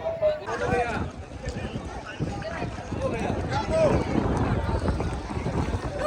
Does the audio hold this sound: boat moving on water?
yes